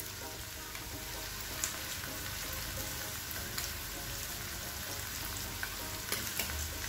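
Schezwan chutney sizzling and frying in a pan, a steady soft crackle with occasional stirring clinks, faint and continuous with no talk.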